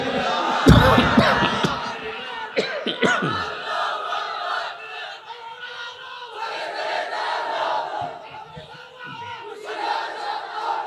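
Large crowd at an Islamic sermon (waz) in Pekua shouts takbir in loud unison, a burst of massed voices followed by sustained cheering and chanting that swells and continues across the scene.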